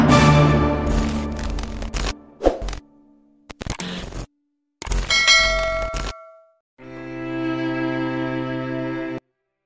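A doorbell at the front of a house rings in several separate chiming bursts with silent gaps between them, ending in a longer sustained ring. The chimes are fairly loud and close, and no one speaks.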